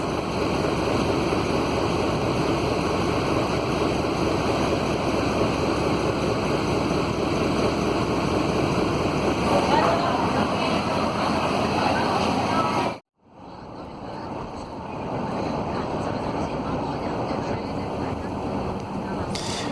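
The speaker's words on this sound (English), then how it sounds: "We are again on the Star Ferry." Star Ferry boat crossing Hong Kong harbour, a steady loud rumble of engine and water wash with wind buffeting the microphone, continuous throughout with a brief dropout near the end.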